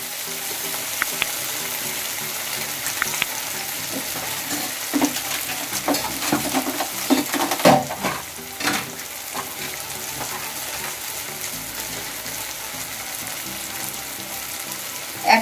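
Spices frying in oil in a pan for an eggplant curry, a loud close sizzle with bursts of stirring and spoon scraping, briefly intensifying midway as ingredients go in.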